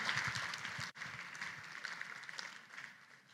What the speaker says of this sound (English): Can we have a nice round of applause for you, for our heroes in the room?